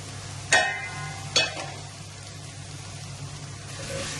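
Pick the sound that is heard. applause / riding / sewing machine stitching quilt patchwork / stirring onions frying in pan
stirring onions frying in pan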